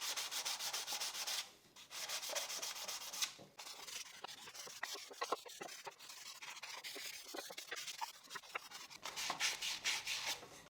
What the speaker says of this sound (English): First, I'll use the 320 grit sandpaper and then the 400 grit.